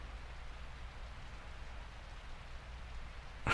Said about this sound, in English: I know, it's non-stop rain.